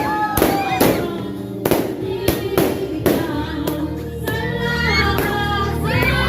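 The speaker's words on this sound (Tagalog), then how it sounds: "Guys, may fireworks dito." Fireworks go off at a Christmas party at a residence: a series of sharp, loud bangs and crackles at irregular intervals, heard over voices and singing in the background.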